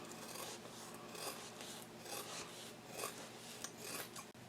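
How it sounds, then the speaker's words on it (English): Scissors or a rotary cutter trim a fabric seam down to 1/4 inch while sewing a Bellezza handbag, giving a steady close rasping, rubbing texture with a sharp click near the end. "I'm just going to go ahead and trim this seam down 1/4 of an inch"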